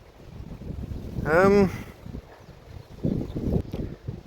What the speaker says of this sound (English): the wind has picked up even more